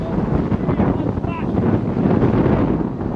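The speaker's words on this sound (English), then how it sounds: "it's getting really windy out here" Strong wind roars across an outdoor riverbank on the Snake River during a catfishing trip, a steady low buffeting rumble on the microphone that continues without a break for the whole stretch.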